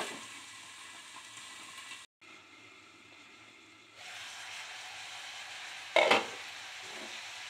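Chopped vegetables for a veg roll frying in a pan give a steady, soft sizzle and hiss, briefly dropping out and then returning a little louder, with a short sharp clatter near the end.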